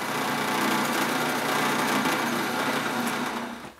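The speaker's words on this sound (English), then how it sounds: "So go ahead and drill that through hole." A steady high-pitched power drill whines continuously for several seconds while drilling a through hole in wood, then winds down and stops at the end.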